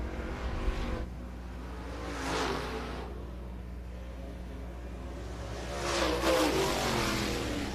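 Race cars on a qualifying lap at Dixieland Speedway in Elizabeth City, heard from a distance as a steady engine drone that swells twice as the cars pass and then fades away.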